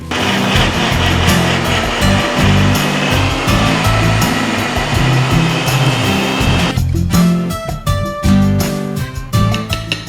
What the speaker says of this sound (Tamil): தண்ணி சேர்த்து நல்லா நைஸாக அரைச்சிக்கலாம்